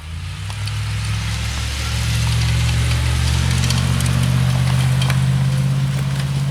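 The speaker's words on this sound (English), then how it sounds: "Big old snow truck. Salt truck." A big snow salt truck rumbles past outdoors with a steady, loud low engine drone that swells slightly as it nears, and no voices over it.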